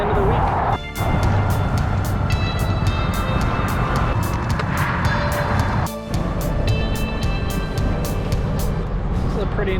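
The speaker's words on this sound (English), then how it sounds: "This is a pretty intense truck stop." Traffic rumbles at a busy truck stop. Cars and trucks pass and idle nearby in a continuous loud roar, with brief dips and swells as vehicles move.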